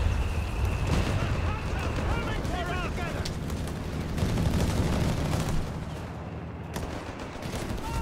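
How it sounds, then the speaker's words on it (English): In Company of Heroes 3, delayed fuse bombs explode among continuous rumbling blasts and rattling gunfire. A commentator talks throughout over the dense, booming barrage. "We got it, not the airburst shells, but the delayed fuse bombs there."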